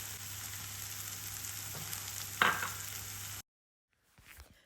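Butter hitting a hot pan for a cheese and onion pasty filling gives a brief, sharp sizzle that flares up, settles into a steady frying hiss, then cuts out.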